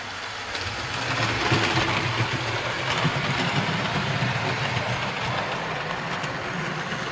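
A model railway locomotive pulls a new carriage on a loft layout, giving a steady, continuous mechanical whirr and rumble with faint rail clicking, running throughout at moderate level with no talking.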